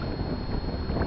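Wind blows across a lake during a day of bass fishing, giving a steady, close low rumble and buffeting on the microphone that lasts the whole moment without a break.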